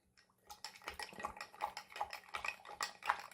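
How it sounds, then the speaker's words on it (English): A spoon stirs Milo chocolate drink powder into a cup of water, giving quick repeated clinks and scrapes against the cup in a steady rhythm, close and moderately loud. "So let's go ahead and stir."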